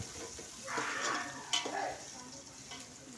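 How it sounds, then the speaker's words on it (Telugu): Onions stir and sizzle in a pan for a colour rice dish, a soft scraping and frying hiss with a brief clink of utensil against the pan, fairly quiet and close with no talking. "ఫస్ట్గా ఆనియన్స్ అయితే వేసుకోవాలి. దాన్ని బాగా కలపాలి ఫ్రెండ్స్."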